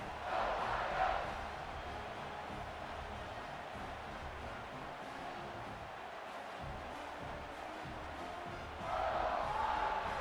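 Football stadium crowd buzzing after a scoring drive in a game against Ohio State, a steady distant roar of many voices that swells louder at the start and again near the end.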